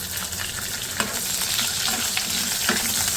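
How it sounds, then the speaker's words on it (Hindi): Curry leaves frying in hot oil with browned garlic for Hyderabadi tomato chutney, a dense constant sizzle with a few sharper crackles and stirring clicks, close and loud with no speech. "अब हम क्या करेंगे कि इसके अंदर मैं कड़ी पत्ता डाल रही हूँ"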